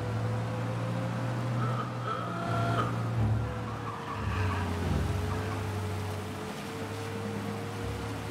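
A heavy, tank-like car in Mafia Definitive Edition drives with a steady engine drone, with brief tire skids around the middle and a continuous loud rumble throughout, with no talk.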